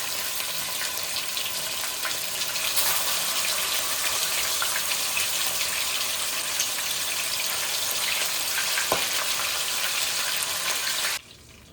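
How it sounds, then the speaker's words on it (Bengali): Pieces of fresh catla fish fry in hot oil in a wok, producing a loud, steady, rushing sizzle that swells slightly after a few seconds and cuts off abruptly near the end. "তেল গরম হয়ে গেলে একে একে মাছগুলোকে ভাজার জন্য ছেড়ে দিলাম"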